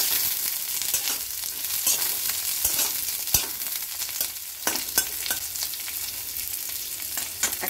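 Chopped ginger, garlic cloves and a small diced onion fry in a pan while being stirred, a continuous crackling sizzle broken by sharp utensil scrapes and clicks, close and without talk.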